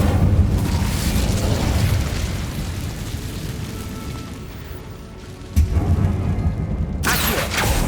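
Hogwarts Legacy's Incendio fire spell, a loud sustained booming roar of flame that fades slightly, then bursts back with a sharp renewed blast near the end.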